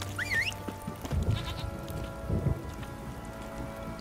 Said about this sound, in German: Dieser verfluchte Drecksregen.